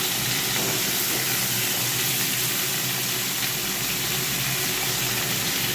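Freshly cut raw potatoes frying lightly in a pan, a dense, loud and continuous hiss and sizzle close by with no pauses.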